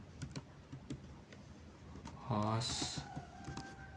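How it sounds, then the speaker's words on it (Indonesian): Keys clatter on a computer keyboard in short irregular bursts, close and moderately loud, with a brief tonal sound partway through. "Kita ketik localhost."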